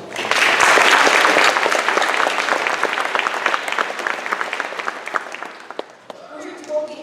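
An audience breaks into loud, sustained applause for a donor at a children's presentation, swelling quickly and then thinning out toward the end, with a few voices just audible beneath it.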